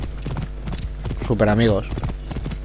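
A horse in Assassin's Creed Origins moves with steady clip-clopping hoof beats under a continuous low hum, while someone talks over it throughout.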